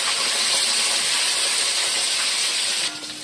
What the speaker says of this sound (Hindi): अब हम वापस चिकन फ्राई कर देते हैं